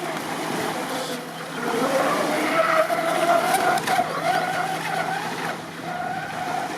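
A brushless radio-controlled boat runs at full throttle, its motor whine rising in pitch and holding steady over several seconds amid water spray and outdoor background noise.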